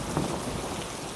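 Steady rain in the Sakura School Simulator game, a continuous broadband hiss of falling drops near a tree, even and unbroken throughout, with no voices.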